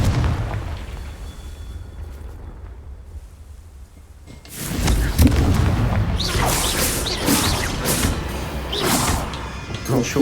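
Confringo blasting spell explosion in the video game Hogwarts Legacy: after a quieter start, a sudden loud blast erupts midway and rolls on as a sustained, crackling, rumbling roar to the end.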